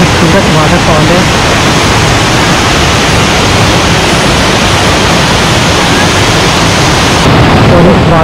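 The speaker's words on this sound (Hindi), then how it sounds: "आप लोग देख सकते हैं कितने खूबसूरत वाटरफॉल है।" Sharan Waterfall in Kaghan Valley roars with a loud, steady broadband rush of falling water, continuous and close throughout with no break.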